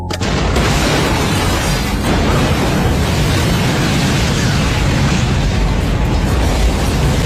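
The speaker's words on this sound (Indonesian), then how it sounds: "Perahu mereka meledak, menewaskan kru di dalamnya." A boat explodes in a loud, dense roar of explosive rumble and crackling that fills the whole stretch, sustained and overwhelming without pause.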